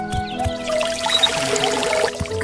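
Cartoon water being poured, a light, trickling pour with small splashy accents that runs steadily for a couple of seconds, with soft tonal music underneath.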